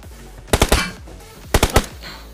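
Two short bursts of automatic weapon fire in PUBG Mobile, each three quick loud shots about a second apart, with no talk over them.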